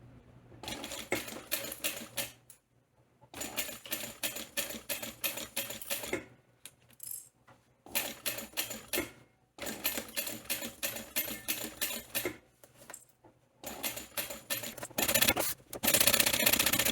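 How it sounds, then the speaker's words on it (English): Sewing machine basting fabric with a 1/8 inch seam allowance around the perimeter of a crossbody sling bag, running in several steady mechanical bursts separated by short pauses, close and clear with no talk. "just make sure everything is going to get caught when you baste at 1/8 inch seam allowance around the perimeter"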